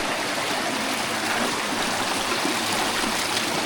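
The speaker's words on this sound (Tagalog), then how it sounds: "At maganda na ang volume ng tubig." Water pours from a pipe into a small waterfall, a steady, loud, close rushing flow with no break.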